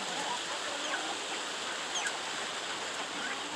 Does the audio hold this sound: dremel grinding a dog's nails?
no